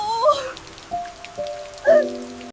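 Steady rain falls in a continuous wash, with a faint tonal background and occasional brief louder swells over the patter.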